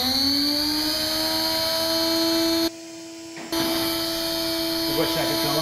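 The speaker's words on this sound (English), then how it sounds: "And then I'm going to turn on the spindle." A CNC router spindle runs at a steady high-pitched whine. The tone rises slightly at the start, cuts out briefly, then returns.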